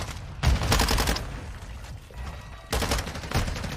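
A Minibak submachine gun fires in Modern Warfare II, two rapid bursts of loud automatic gunfire separated by a short lull.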